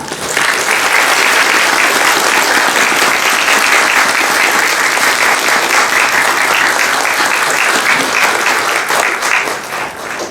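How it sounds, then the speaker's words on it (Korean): A theater audience at a Korean film talk event for Mamoru Hosoda's Mirai bursts into loud, sustained applause welcoming the director, dense clapping from many hands holding strong for about ten seconds before easing slightly. "호소다마모루 감독님 박수로 맞이해 주세요"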